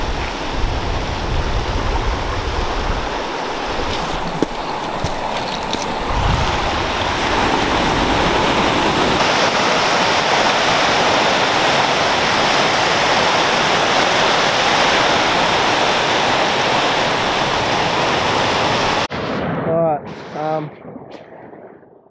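Small ocean waves washing onto rocks at a surf spot produce a loud, continuous rushing wash with gusty roar, close by, before ending abruptly and giving way to a person speaking.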